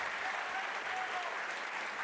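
An audience claps in steady, dense applause that fills the whole moment, even and sustained without pauses.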